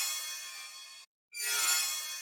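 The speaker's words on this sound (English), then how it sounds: "I really like using these cymbal scrape sounds sometimes" Cymbal scrape effect with a dark, almost demonic edge: two bright, hissy metallic swells separated by a brief silence, the second one louder and sustained.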